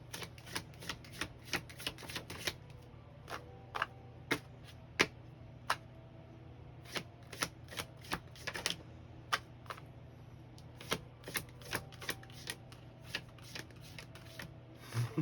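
Large tarot cards are shuffled by hand in a steady run of soft riffling clicks and flicks, close and quiet, continuing without pause.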